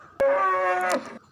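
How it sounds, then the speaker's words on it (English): A bull gives one long, loud, sustained moo with a steady harmonic tone, clear and close, rising abruptly and cutting off after about a second, in a farm-animal sound sequence. "Bull,"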